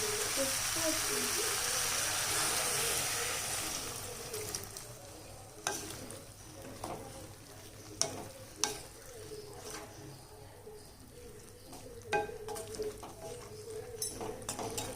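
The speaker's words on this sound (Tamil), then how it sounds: "இப்போ அதுக்கு தேவையான அளவுக்கு நம்ம தண்ணி சேர்த்துக்கலாம்" Water is poured into a pan of seven-vegetable curry, a steady hiss and sizzle for the first few seconds that settles into a quieter simmer with scattered clinks and stirring taps.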